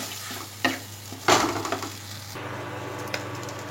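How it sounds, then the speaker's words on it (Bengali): Raw jackfruit kofta filling frying dry in a pan, with a low steady sizzle under scraping and tapping stirs of a spatula, close and moderate, and a few sharper knocks. "সমস্ত উপকরণ ভালোভাবে মিশিয়ে আমি শুকনো করে ইঁচড়টাকে একটু ফ্রাই করে নেব।"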